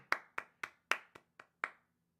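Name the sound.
person clapping hands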